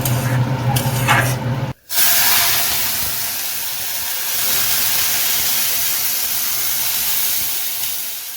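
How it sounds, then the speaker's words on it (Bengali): Dry vermicelli frying in a hot pan, browning to take away its raw smell, gives a steady close sizzling hiss that runs on without a break after a short pause near the start. "না ভাজে একটু গন্ধও ছাড়ে কাঁচা কাঁচা, তাই একটু লাল করে ভেজে নিচ্ছি সামাইটাকে।"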